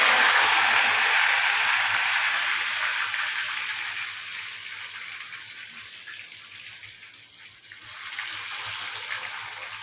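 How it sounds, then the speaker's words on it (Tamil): Squeezed slices of raw plantain for chips fry in hot oil, making a loud, steady, close sizzling hiss that dips briefly and then rises again. "புழிஞ்சு இந்த எண்ணெயில் போட்டணும்."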